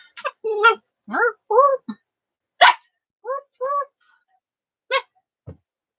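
A dog barks in short, sharp bursts close by, with about eight barks spread irregularly across the stretch and quiet gaps between them.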